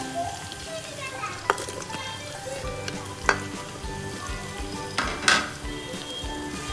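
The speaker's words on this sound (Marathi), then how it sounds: "त्याच्यामध्ये 2 चिरलेले कांदे टाकणार आहोत।" Chopped onions frying in hot oil with ginger-garlic paste and whole spices for an Agri-style dal dish, a steady close sizzle broken by a few sharp clinks of a spoon against the pan.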